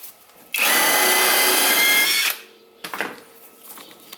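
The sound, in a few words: power tool loosening coilover top bolts on Honda Accord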